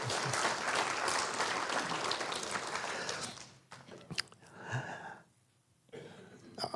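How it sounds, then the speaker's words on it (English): A congregation claps through a round of applause at a church service, dense and steady at first, then thinning into scattered claps and fading with faint room noise. "So this is where you give yourself a round of applause."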